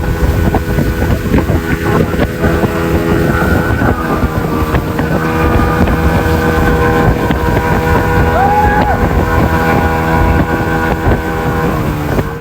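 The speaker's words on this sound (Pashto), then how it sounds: "کښتۍ چې تیزه سوله نو ټیوب په اوبو کې پورته کښته کېدی" Motorboat speeding across a dam lake while towing a tube, its engine a loud, steady drone throughout, with wind buffeting the microphone.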